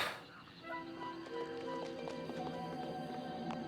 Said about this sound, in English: I'd say it's a horse. Giddy up!